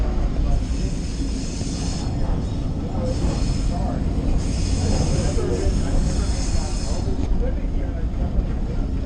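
Train number 9 rolling across a curved wooden trestle toward Roaring Camp, a steady low rumble and rattle of wheels with intermittent high-pitched squeals, heard from on board with some background voices.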